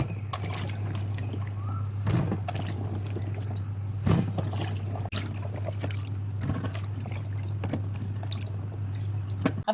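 Water drains from freshly washed star apples set in a strainer over a bowl, a steady trickle with scattered drips and a few light clatters against a low background hum.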